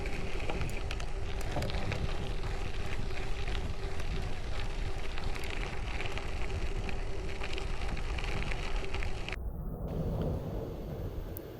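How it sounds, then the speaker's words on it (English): Steady broadband rush of flowing water mixed with wind buffeting the microphone at a quiet natural spot on the edge of London during a heatwave, continuous and close, with the texture shifting near the end. "there's not a single sound here except water and wind"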